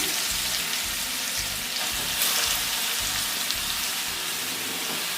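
Grated carrot fries in hot ghee in a pan for carrot halwa, giving a loud, constant crackling sizzle with soft rhythmic stirring thumps underneath.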